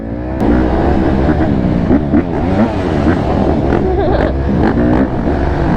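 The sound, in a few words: two-stroke dirt bike engine revving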